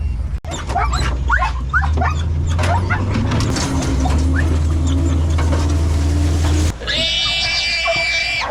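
Hog hunting dogs loaded on a moving buggy whine and yip repeatedly, close and loud over a steady engine drone, with a sharp high whimper near the end.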